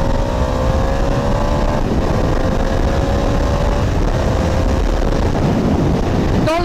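An Indian FTR 1200 S twin-engine motorcycle revs hard while riding, its engine note climbing through gear changes under steady, loud wind rush throughout.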